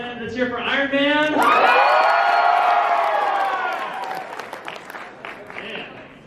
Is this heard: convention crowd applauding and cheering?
yes